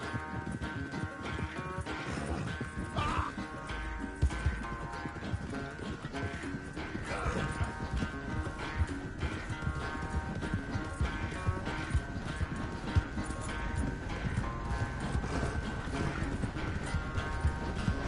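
Horse hooves pound in a fast, rhythmic gallop during a riding race in the video game Red Dead Redemption 2, the steady clip-clop carrying over a bed of game music with no speech.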